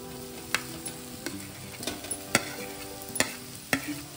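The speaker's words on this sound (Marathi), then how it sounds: "आता आपण त्याच्यात बटाटे टाकून घेऊ।" Boiled potatoes sizzle in hot masala in a pan, with several sharp spoon knocks and scrapes spaced irregularly over a soft, steady frying hiss.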